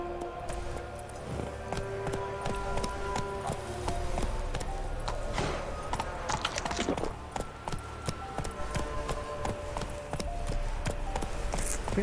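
Hoofbeats from Roach, the horse in The Witcher 3 video game, clatter along in a steady galloping clip-clop, mixed with ambient game sound and music throughout.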